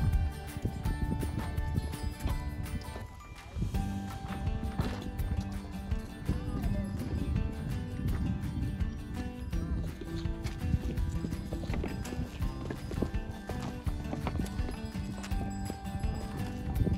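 A mule walks along a rocky mountain trail on the Mardi Himal trek in Nepal, hooves clip-clopping in a steady rhythm close by with bell-like jingles, while people talk over it.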